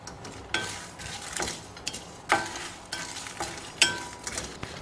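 Red chillies and lentils dry roasting in a pan, giving a soft continuous crackle with repeated stirring scrapes and clinks recurring every second or so, close and moderately quiet.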